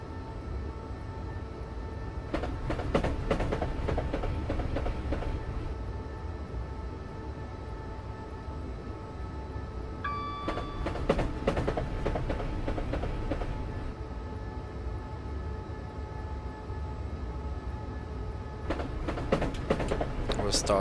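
A Class 377 electric multiple unit in Southern commuter service on the London line in Train Simulator 2016 rolls along with a steady low rumble, scattered rail clicks and a brief tone, while someone talks over it.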